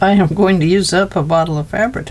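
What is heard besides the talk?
No everyday noise stands out behind the speech.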